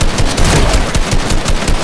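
Gunfire in a shooter video game, a dense, loud, continuous burst of rapid shots that fills the whole moment without a break.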